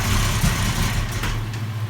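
A Chevy Luv engine fires up and settles into a steady, rough idle close by, running alone without talk.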